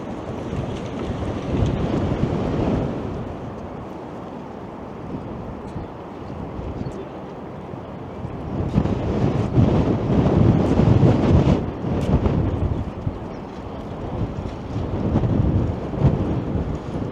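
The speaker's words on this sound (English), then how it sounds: "It's so windy it feels like my hat's about to blow off" Strong wind buffets the microphone in heavy, rumbling gusts that rise and fall, loud and roaring, with no voices, at a waterfront park in downtown Toronto in spring.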